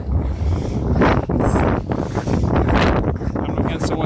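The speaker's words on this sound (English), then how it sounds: "Coming against the wind here." Strong wind buffets the microphone outdoors at the Emera Oval skating rink in Halifax, Nova Scotia, a loud continuous low rumble with gusty swells that barely lets up over the few seconds.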